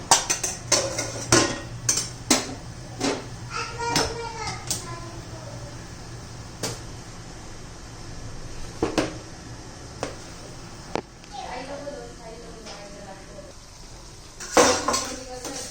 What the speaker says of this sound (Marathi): आता झाकण ठेवून देऊया